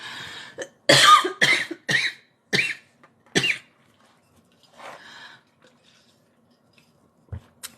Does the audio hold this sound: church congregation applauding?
no